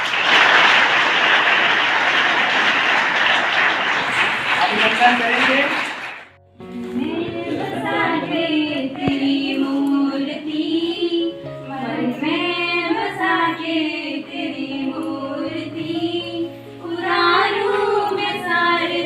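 An audience at a career guidance event at a government college in Baloda applauds a guest. The clapping is dense for about six seconds, then gives way to a speaker talking into a microphone.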